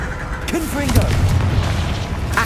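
Confringo blasting spell exploding in the video game Hogwarts Legacy, a single booming blast with a rumbling tail, mixed with game sounds.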